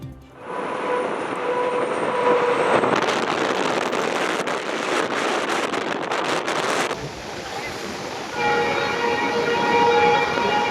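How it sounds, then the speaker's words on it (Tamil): A three-coach train running at about 90 km/h across the new sea rail bridge from Mandapam to Rameswaram: a loud, continuous rumble and rattle of wheels over the track, steady throughout, with a brief dip partway. "புதிய ரயில் பாலத்தில் 3 ரயில் பெட்டிகளுடன் 90 கிலோமீட்டர் வேகத்தில் மண்டபம் முதல் ராமேஸ்வரம் வரை சீறி பாய்ந்து ஓடிய ரயிலை சுற்றுலா பயணிகள் கண்டு ரசித்தனர்"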